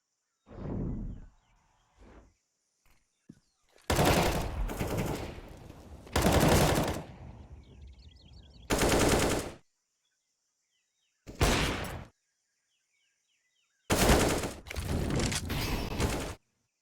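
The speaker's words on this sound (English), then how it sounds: "They're all running him down with the Tech 9s." Tech-9 pistols firing in a Counter-Strike: Global Offensive match on the Ancient map, several loud rapid bursts separated by silent gaps, the last volleys coming in quick succession.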